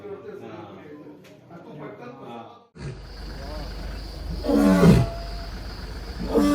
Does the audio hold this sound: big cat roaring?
yes